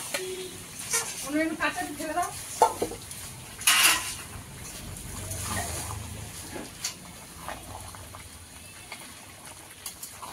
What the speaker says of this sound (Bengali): এবারে মাংসের সঙ্গে আলুটাও কষাবো।